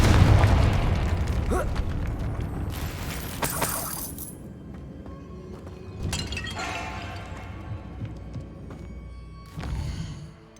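A Confringo blast spell explosion in the video game Hogwarts Legacy: a loud booming burst with shattering debris at the start, then further bursts and crackling impacts that fade out, followed by a final smaller pop.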